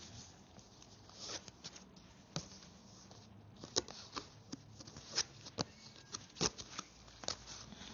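Hands searching through a Rider-Waite tarot deck, with soft rustling and scattered sharp card flicks and taps, close and quiet, occurring irregularly over several seconds.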